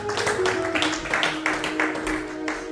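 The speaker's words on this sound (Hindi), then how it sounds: "सिस्टर मीनाक्षी के लिए जोरदार तालियां बजा दीजिए।" Clapping at a church Father's Day gathering in honour of Sister Meenakshi: a steady, moderately loud patter of hands that holds through the moment, over a faint sustained tone and room murmur.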